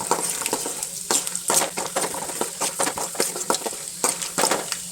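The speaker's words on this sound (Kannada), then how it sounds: "ಉದ್ದಿನ ಬೇಳೆ ಹಾಕೊಂಡು ಅದು ಚಟಪಟ ಅನ್ನೋದಾಗ" Urad dal and seeds sputtering in hot oil while tempering for North Karnataka shavige upma, a dense run of sharp crackling pops and sizzle close up, with no talking.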